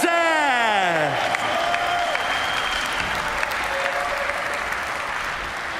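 A large crowd at a skateboarding competition final applauds steadily with scattered cheers, while a voice speaks over the start before the clapping carries on alone.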